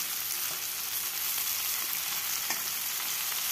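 Eggplant frying in a pan, nearly done before spinach goes in, with a continuous soft sizzle and faint crackle and a few small clicks of stirring.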